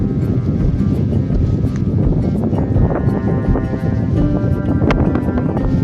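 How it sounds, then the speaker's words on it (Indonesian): Strong cold wind on a highland roars and buffets against the microphone in a dense, continuous rumble, loud and close throughout. "Mungkin karena ada di dataran tinggi, jadi sangat terasa sekali anginnya"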